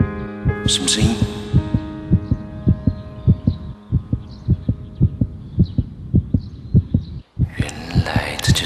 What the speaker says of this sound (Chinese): 原来这就是心跳的感觉啊。